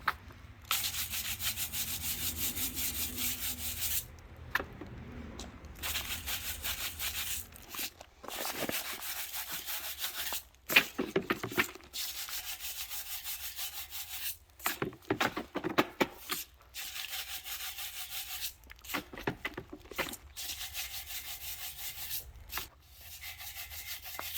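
A brush scrubbing honing grit out of an engine block, close repeated rubbing strokes in irregular bursts with short pauses, no talking.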